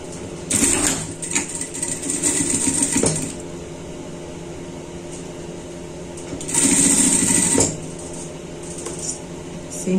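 A sewing machine stitches satin fabric for a dog's Christmas collar, running in two loud bursts of steady mechanical whirring, from about half a second to three seconds and again from 6.5 to 7.5 seconds, with quieter handling noise between.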